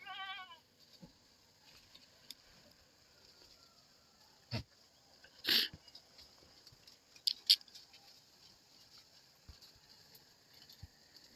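Goats grazing below on a green village hillside give a few faint, short bleats, heard at a distance amid quiet outdoor ambience and occasional clicks and knocks.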